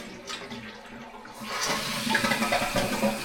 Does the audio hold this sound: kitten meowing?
no